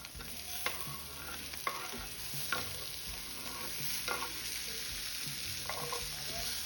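Chopped tomatoes are stirred in a sizzling pan, with a constant hiss under scattered scrapes of a spoon against the pan, close by and moderately quiet, with no talk.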